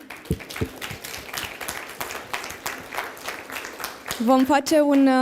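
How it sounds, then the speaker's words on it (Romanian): At a journalism seminar, scattered audience clapping rises and falls for several seconds. A voice speaks at the end. "Te rog să te ridici, să o aplaudăm pe Andrada."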